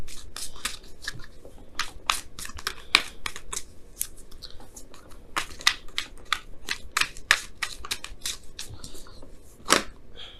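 Rapid crisp clicks and flutters of tarot cards being shuffled, in uneven bursts, close and fairly loud with no talking.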